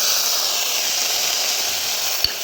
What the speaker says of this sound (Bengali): চিকেনের টুকরোটাও সবজির সাথে হালকা করে ফ্রাই করে নেব।